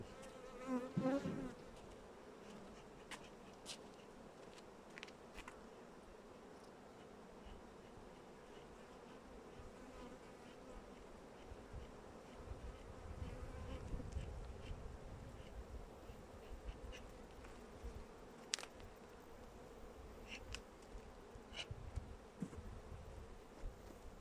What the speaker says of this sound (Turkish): Bakın nasıl gidiyorlar arılar.